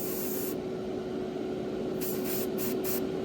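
Hissing bursts from an aerosol spray paint can, one long spray followed by several short, quick ones, close up.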